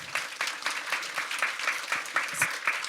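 Audience applause at a youth drug-addiction prevention talk concert, a steady patter of claps with uneven bursts, moderately loud and filling the room throughout.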